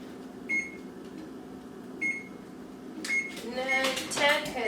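Button beeps sound as an oven timer is set while baking chocolate chip cookies at 375 degrees: two single short beeps a second or so apart, then a quick burst of several beeps and clatter, with no talk during the sounds.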